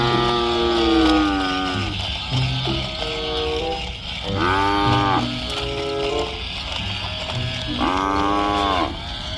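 A colourful toy buffalo gives a series of loud, drawn-out electronic moos, several calls spaced across the span with short gaps between them, and no voices over them.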